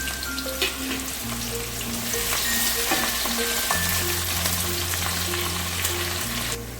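Onions frying in oil for a chicken maharani curry, a steady close sizzle with soft crackles over a faint low background hum, no talk.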